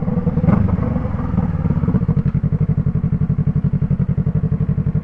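A 2024 Yamaha MT-03 motorcycle with an Arashi exhaust fitted with its dB killer idles and blips nearby, giving a loud, steady pulsing thump with one sharp rev near the start and no talk.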